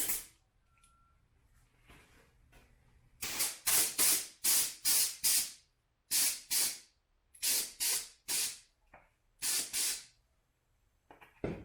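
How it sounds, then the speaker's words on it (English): Compressed air blows dust off a motorcycle part in a run of sharp, loud hissing bursts, about a dozen short blasts in irregular rhythm separated by near silence, close to the microphone. "Compressed air is your friend."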